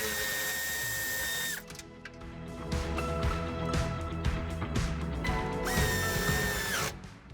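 A power tool drives a screw for a ground connection during a tow hitch and wiring kit install on a 2022 Suzuki SX-4 S Cross, whirring in two close, sustained bursts with a brief ratcheting pause between.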